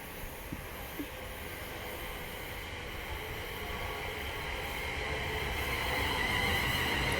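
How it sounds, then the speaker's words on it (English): An EMR passenger train passes through Bedford station with a steady, broad rail rumble that slowly swells louder as it approaches, with no voices over it. "And here's the EMR train."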